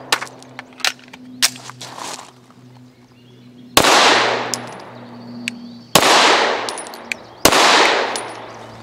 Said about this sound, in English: So we're starting almost completely at the bottom of the spectrum with some 65 grain ARX, 3 rounds to see how it cycles and functions.